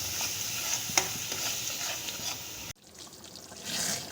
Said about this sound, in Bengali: দিয়ে ভালো করে ভেজে দেবো